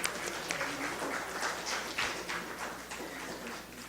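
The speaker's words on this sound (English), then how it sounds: "So, a round of applause." A round of applause from the audience at a livestreamed AI forum debate session, steady clapping at moderate distance filling the whole stretch, with scattered individual claps standing out.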